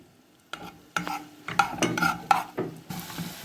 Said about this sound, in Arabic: وهسيبها عندي على النار لحد ما تصفر معايا تصفير خفيف كده.